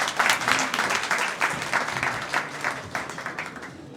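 A crowd at a bar association oath-taking ceremony applauds to welcome a guest speaker, a dense burst of many hands clapping with strong irregular swells that gradually thin and fade toward the end.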